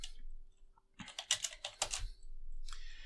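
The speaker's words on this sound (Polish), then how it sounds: "Klikamy Enter." Computer keyboard typing in quick bursts of clicking keystrokes, near and fairly faint, with a final key press such as Enter, with no talking.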